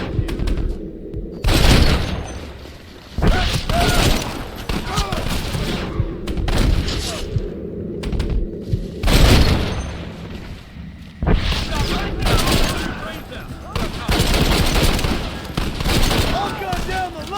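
Heavy gunfire in a battle from the Red Dead Redemption video game, with bursts of rapid shots and booming blasts repeating throughout, loud and close, with shouted voices over the shooting.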